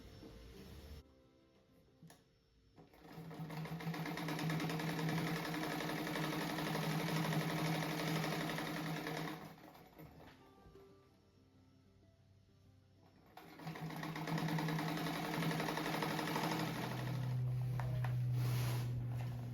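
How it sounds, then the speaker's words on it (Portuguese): Sewing machine stitching a brown fabric strip for a small-scrap patchwork rug, two long runs of fast steady motor hum and needle clatter, close and clear, separated by quiet pauses. "Agora eu vou costurar essa faixa marrom aqui"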